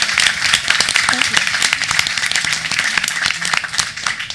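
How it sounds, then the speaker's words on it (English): An audience at a student STEAM competition pitch event claps in a dense burst of applause lasting several seconds, with a voice speaking over it. "So, round of applause."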